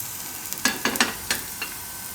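Soya wadi cheela cooking in oil on a pan, with a steady soft sizzle under several brief scraping, spatula-like clicks, close and moderately quiet.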